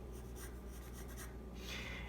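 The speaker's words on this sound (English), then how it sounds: "using the flat side of the pencil," Graphite pencil shading with the flat side of the lead across paper for a fashion sketch, a steady soft scratchy rubbing that runs continuously and close, strokes swelling slightly in bursts, with no talking.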